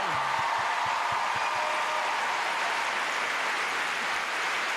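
Audience applause fills an arena after a ladies' figure skating free program featuring a triple axel, a dense, even wash of clapping that holds steady and fairly loud for the whole stretch.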